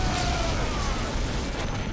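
Battle noise from Warhammer 40K Dawn of War, a dense, steady wash of gunfire and booming explosions, loud and continuous with no pause.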